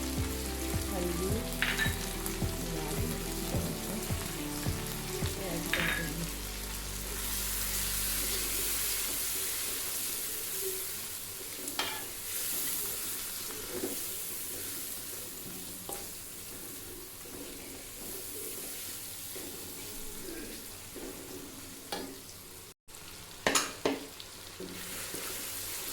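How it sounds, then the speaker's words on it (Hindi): Spice masala with tomato, ginger, whole spices, crushed red chilli, coriander and turmeric sizzling in a pan for goat liver, a steady close frying hiss with stirring scrapes and clinks, no talk. "मसाले की हमारी भुनाई हो चुकी है"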